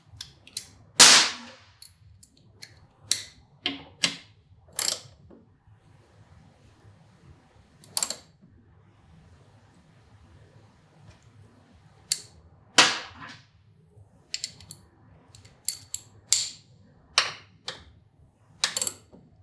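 Sharp metallic clicks and ratchet-like snaps from tightening fasteners on a Kawasaki Ninja 400 during a kickstand eliminator install, coming in irregular bursts of close, loud ticks separated by quiet pauses, with no talking.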